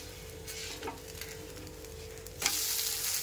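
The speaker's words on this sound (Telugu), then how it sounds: "దోశ కాలిందండి. ఇప్పుడు ఒకసారి టర్న్ చేస్తాను." Bread dosa cooking on a hot pan over a low flame, with a steady close sizzle throughout and a sharper scrape and louder burst of frying as it is turned near the end.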